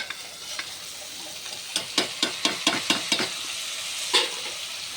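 Chili vegetable dish with finely chopped tomatoes and grated coconut being stirred in a pan, a run of about eight sharp rhythmic scrapes over a soft sizzle, with a few scattered clinks before and a last scrape after a pause.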